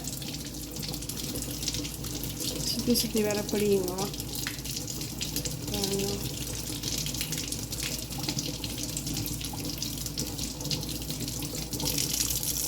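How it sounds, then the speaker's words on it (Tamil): Hot water running from a kitchen tap over popsicle moulds, a continuous splashing stream under a voice talking in Tamil. "சூட்டு தண்ணி வருது சரியா சூட்டு தண்ணி வருது"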